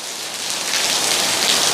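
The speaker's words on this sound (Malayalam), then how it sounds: "കാലത്ത് തന്നെ അതിശക്തമായ മഴയിട്ടാ" Heavy morning rain pouring down at home, a dense, steady hiss of drops drumming on surfaces, close and continuous, with no voices.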